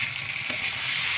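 Chicken podimas fries in a pan with a short burst of steady, dense sizzling that stays even and close throughout.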